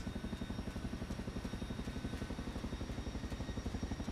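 A DC-3's piston engines in Microsoft Flight Simulator 2024, a rapid, even propeller throb pulsing steadily and fairly quietly throughout, with no talking.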